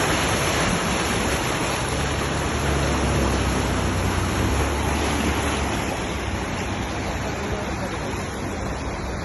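Floodwater roaring steadily through flooded streets in Dubai, a loud continuous rushing wash with no breaks, close and dominant throughout.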